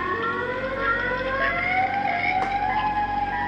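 A steady wailing siren with several layered tones that slowly rise in pitch, continuous and fairly loud with no one speaking, sounding eerie and ominous.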